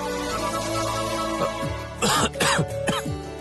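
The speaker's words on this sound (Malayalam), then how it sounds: "നല്ല ചുമയുണ്ടല്ലോ." A woman coughs several times in a harsh, close burst of three or four coughs in the second half, over a low background of television music.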